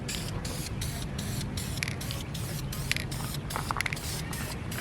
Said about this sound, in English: Painting my harness bar, priming it up.